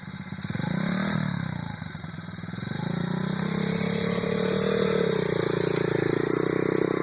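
Coolster pit bike engine revving and droning steadily while riding through sand at Samoa Dunes, rising in pitch as the throttle opens, close and fairly loud with no talk.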